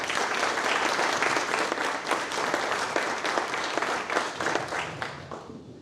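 An audience at an annual arts council meeting applauds an award winner with sustained, dense clapping that fills the room and tapers off at the end.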